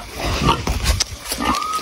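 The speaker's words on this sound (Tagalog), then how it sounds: "Ay, yung mga baboy" Pigs grunt and oink up close in a short, loud burst of several rough calls, mixed with a little squealing.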